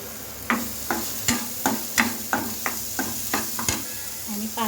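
Chicken masala curry is stirred in a pan with a spoon, giving about ten evenly spaced scraping strokes over a soft sizzle, close and moderately loud.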